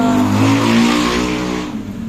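A Kawasaki Versys 650 motorcycle engine runs loud and close, a strong humming drone with rising and falling pitch like revving, easing off toward the end.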